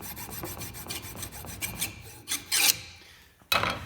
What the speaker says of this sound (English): use my file and just file straight across there